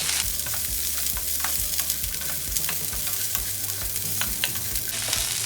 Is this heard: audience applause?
no